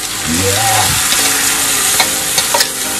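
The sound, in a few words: stir-frying glass noodles with japchae sauce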